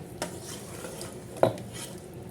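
Fried chicken being stirred into chicken biryani in a pot, with two brief, faint clinks and scrapes of a utensil against the pot over a quiet background.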